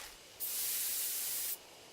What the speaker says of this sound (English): I take careful aim and spray the drugs.